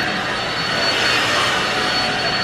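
A household vacuum cleaner runs continuously in a home, a steady loud whooshing roar with a thin high whine, close to the microphone and unbroken throughout with no talking.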